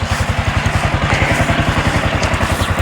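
A loaded motorcycle engine runs steadily at close range, its loud, rhythmic thumping pulses repeating evenly with a rattling mechanical clatter on a mountain road in Benguet.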